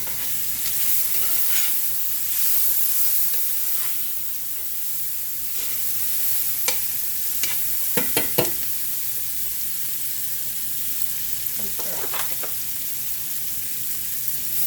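Thin slices of bottom round beef fry in oil on a stovetop with a constant crackling sizzle, punctuated by sharp utensil clacks and scrapes in short clusters, close up and with no one speaking.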